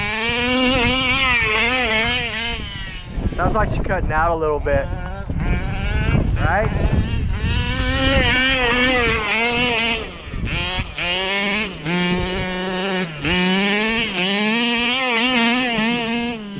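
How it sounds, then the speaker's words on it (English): Outboard boat engine fitted with an RT 990 carburetor, loud and close, revving with uneven surges that hint at it cutting out, with wind buffeting the mic and brief speech over it. "Sounds like she's cutting out a little bit."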